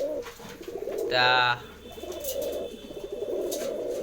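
Pigeons kept for sale in a village coo in low, rolling warbles at moderate distance, with a short sharp chirp near the start and a single brief spoken word.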